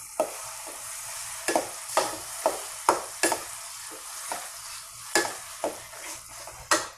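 A spatula stirs mashed bottle gourd bharta in a hot frying pan, making repeated scraping strokes at a quick, uneven rhythm over a steady, gentle sizzle, close and fairly loud.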